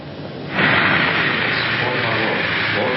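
Airplane engines at an airport swell into a loud, steady roar about half a second in and hold as a broad, continuous rush to the end.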